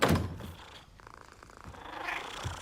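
Soft, continuous purring of kittens close by, with a low rumbling texture and a couple of light thumps.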